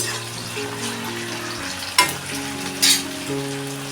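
A frozen ginger, garlic and curry leaf paste dropping into hot oil for veg chilli, sizzling steadily up close beneath a low hum, with two sharp bursts of crackling spatter.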